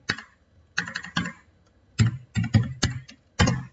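Keystrokes on a computer keyboard as a SnowSQL command is entered, coming in short clustered bursts of clicks with brief pauses between them, close and clear with no speech.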